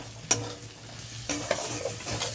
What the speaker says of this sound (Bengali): দিয়ে এটাকে কষিয়ে নেব ভালো করে